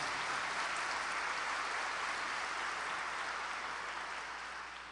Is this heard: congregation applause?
yes